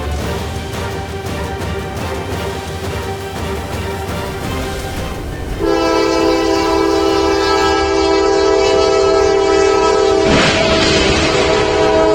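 A train rolls past with a rumbling clatter, then a loud sustained horn blasts for several seconds, close and piercing.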